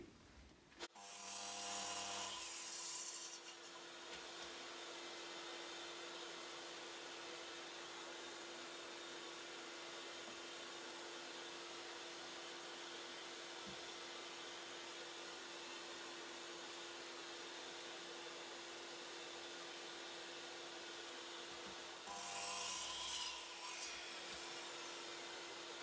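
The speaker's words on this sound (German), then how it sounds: "Der Standfuß und der Deckel werden je eine Höhe von ca. 10 cm haben und werden jetzt erstmal abgeschnitten." A steady, continuous power-tool drone cuts through an old wooden beam for a DIY LED lamp, with louder rising and falling bursts where the cut starts and ends, no talking.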